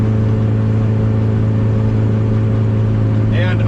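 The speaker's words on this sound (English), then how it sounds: "if you keep revving it, it'll just keep ripping" A turbocharged Ford EF hatch engine roars loud and continuous, a deep steady drone with strong low harmonics held throughout, and a brief higher whine or whir rising near the end.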